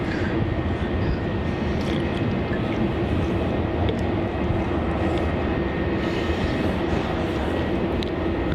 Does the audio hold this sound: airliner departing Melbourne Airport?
yes